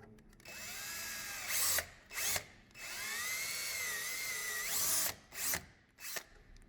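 A power drill whines steadily as it pre-drills into wood for a gate latch, with short bursts of higher revving between longer runs, close and alone without speech.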